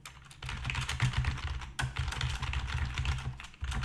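Typing on a computer keyboard: a steady, close clatter of keystrokes with a brief pause partway through, and no voices.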